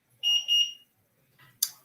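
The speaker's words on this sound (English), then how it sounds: "When my mom sets the alarm when I'm in the middle of this podcast." A home alarm system chirps twice as it is set, two short high electronic beeps close together, then a brief sharp click or thump after a quiet gap.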